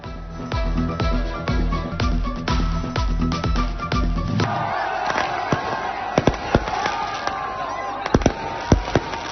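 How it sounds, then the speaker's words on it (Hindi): New Year celebration fireworks in Kamalia, Pakistan: repeated sharp bangs and crackles, first in a quick regular volley over a deep rumble, then scattered louder pops, with a crowd cheering in the background. "आतिशबाजी का खूबसूरत मुजाहरा, आसमान रंगो नूर में नहा गया।"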